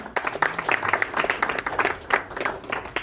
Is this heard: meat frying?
no